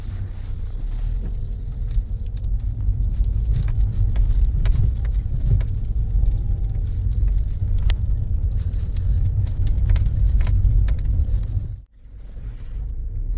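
A car is driven on a test drive after repair of a robotized gearbox that had been knocking and crunching in third and fourth gear, with replaced synchronizer and washers. Road and engine rumble run loud and continuous, dipping briefly near the end.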